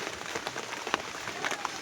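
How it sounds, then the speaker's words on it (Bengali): Steady rain falls on surfaces around an outdoor pigeon cage, a soft, even patter with a few sharper drops standing out, heard alone without talk. "বৃষ্টি"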